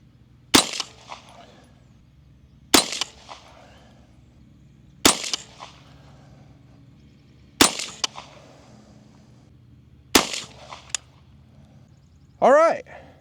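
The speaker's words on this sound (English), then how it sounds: "ran all 10 of those rounds, no issues" A Bear Creek Arsenal BC-22 Magnum rifle fires five sharp, loud shots at a steady pace about two and a half seconds apart, each with a short echo, on an outdoor range; a brief rising tonal squeal follows at the end.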